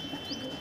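A soft pigeon coo, low and murmuring, sounding close against a faint steady background hum.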